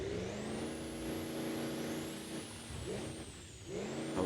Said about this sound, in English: Oh, turbos are beautiful.